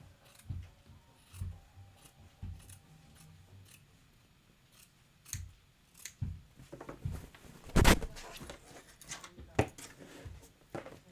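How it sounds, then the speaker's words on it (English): Scissors rough-trim fabric for a sewing project, a series of sharp snipping cuts in irregular bursts, close and distinct, with a louder cluster near the middle and a person speaking intermittently between them. "I'm just going to rough trim it, and then I'll do it a good job when after I've pressed it."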